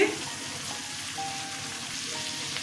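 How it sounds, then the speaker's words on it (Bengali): Whisked curd and spices sauté in a pan for a chickpea and split-pea dal bora curry, a soft, even sizzle and bubbling hiss that runs steadily up close. "দইটা আমি ভালো করে ফেটিয়ে নিয়েছি। ভালো করে কষিয়ে নেব।"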